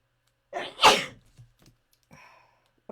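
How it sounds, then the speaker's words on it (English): A single person's sneeze, close and fairly loud, with a short breathy build-up bursting into a sharp explosive peak, then a few faint rustles and a soft later sound in an otherwise quiet indoor setting. "Excuse me, I'm going to sneeze."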